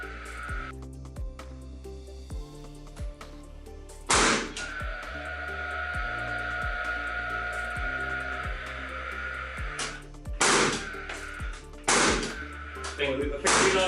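A strip nail gun fires into timber with sharp, loud bursts at irregular intervals, each followed by a hiss of air, over a background of steady rhythmic clicking.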